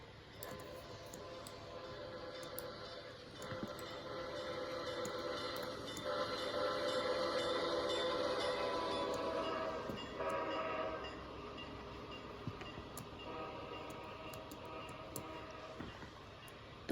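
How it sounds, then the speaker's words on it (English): Passenger train on the City of New Orleans route rolling along tracks after leaving Raton Pass Station, a steady distant rumble and rail hiss with faint clicks, swelling in the middle and easing off. "Soon, the train left Raton Pass Station."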